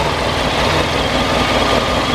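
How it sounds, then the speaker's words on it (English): A stock motorcycle with its standard exhaust idles in a loud, steady, low rumble that stays even throughout, close up with no throttle change and no voices. "give the throttle a blip so you can hear what that exhaust sounds like"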